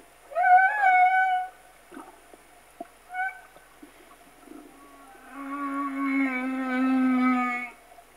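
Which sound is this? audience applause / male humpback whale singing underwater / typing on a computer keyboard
male humpback whale singing underwater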